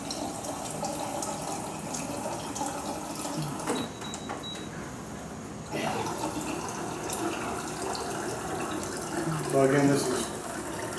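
Room-temperature water runs steadily from a tap, with a continuous splashing flow under a man's speech and brief shifts in the stream's intensity.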